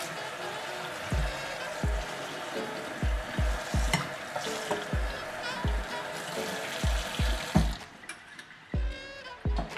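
Water runs over a kitchen colander being rinsed before broccoli goes into it, a steady hiss and splash broken by repeated low knocks as the colander bumps in the sink, ending with a brief clatter.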